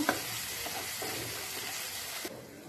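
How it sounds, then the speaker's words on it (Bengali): Spice mix with salt and sugar sizzles steadily in a pan for malai soya chaap while it is stirred, with faint scraping under the even hiss before the sound drops abruptly near the end. "নুন চিনির মধ্যে মশলাটার সাথে নুন চিনিটাকে ভালো করে মিশিয়ে নেব"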